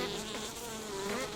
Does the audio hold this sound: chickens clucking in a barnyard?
no